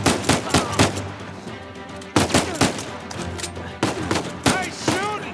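Rapid bursts of gunfire from the video game Uncharted: Legacy of Thieves, loud, close shots arriving in quick clusters with brief gaps between volleys.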